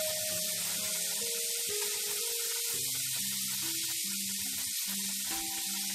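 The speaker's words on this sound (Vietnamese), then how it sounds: "Mình chiên từ từ như thế này, cái lửa vừa thôi" Potatoes fry slowly in oil over medium heat, giving a steady, even hiss of sizzling with no pauses. Faint tonal music plays underneath and no one speaks.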